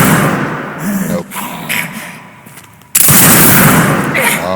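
Gunfire in the horror game Resident Evil 9 Requiem, loud close shots with a sudden sharp blast partway through, over dense noisy background.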